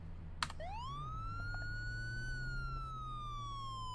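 A Virginia State Police car siren wails steadily during a pursuit, rising into a long sustained tone that slowly drifts lower, loud and close, with a brief click near the start.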